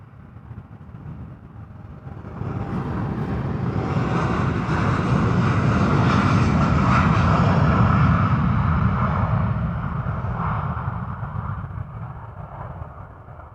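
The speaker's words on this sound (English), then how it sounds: "This is a Dreamliner 787-10 on its way to LAX." A Boeing 787-10 Dreamliner departs Schiphol's runway 36L on a showery day, its jet roar swelling steadily to a loud broad peak midway, then slowly easing off with no voices.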